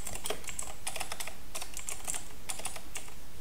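Close, quick typing on a computer keyboard, with bursts of crisp key clicks and short pauses between them, alone and without talk.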